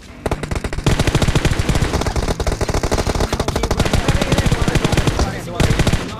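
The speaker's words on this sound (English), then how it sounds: "Mary, reload the gun." Rapid machine gun fire in the PUBG Mobile video game, long loud sustained bursts of closely spaced shots that run almost continuously, with a brief pause near the end.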